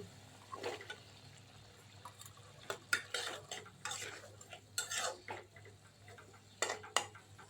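Potatoes are stirred into spiced masala in a pan: a quiet, close scraping and clinking of a utensil comes in uneven bursts, with some wet, squelchy movement between them and no talking.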